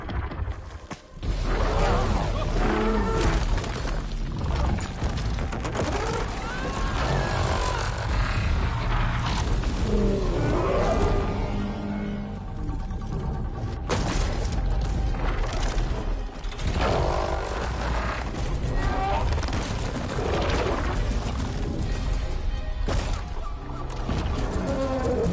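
The Tremor Tusk, a huge mechanical beast in Horizon Forbidden West, lets out deep roars, grinding creaks and mechanical groans amid battle noise and a rumbling score, with brief talk in between.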